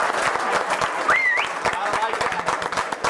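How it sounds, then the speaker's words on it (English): An audience claps, a short burst of applause running under a voice as he speaks, with a brief whistle-like tone in the middle. "I think only the men are clapping."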